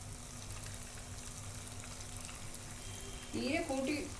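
Ring murukku dough, a Deepawali snack, frying in a pan of hot oil gives a steady, soft sizzle, with a brief voice or clatter rising near the end.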